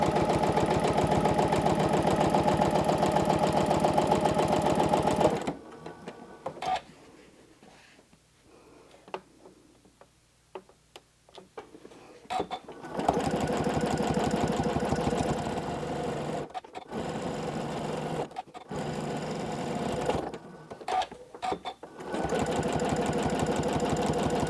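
Sewing machine running fast for free motion quilting while thread painting a landscape, a steady loud mechanical whir that stops for several seconds, then resumes in bursts with short pauses.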